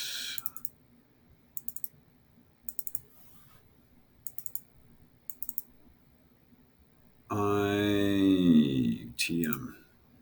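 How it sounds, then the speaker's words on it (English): A computer mouse clicks while someone works in Maya texturing software, with short crisp clicks in small sparse groups at a steady close level. A voice starts talking near the end. "I can click here, I can click File, and then I'll click here in the browser"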